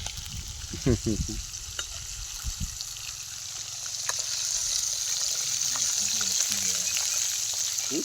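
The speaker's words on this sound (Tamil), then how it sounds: "பாருங்க மீன் வறுவல் எப்படி செய்கிறோம்னு" Fresh pond fish, caught on a hook line, fries on a rock with a sizzle that swells and grows steadier partway through. A few brief voice-like sounds come early.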